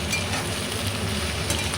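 Vegetables with onion, garlic and green chili are sautéed in a pan for a dried-fish dish. The sizzle is steady and close, with a low rumble and faint scraping of a stirring spoon throughout.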